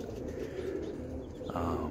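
A blue check white flight roller pigeon coos softly nearby, low throaty calls over light background sound, with no speech.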